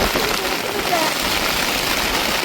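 Heavy rain pours at a seashore, a dense, steady broadband hiss of water, loud and unbroken throughout.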